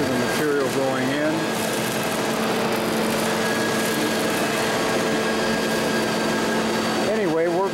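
Single screw press dewatering and shredding shrimp shell waste, a loud steady mechanical drone with a constant hum and grinding texture, while a voice talks briefly over it near the start and end.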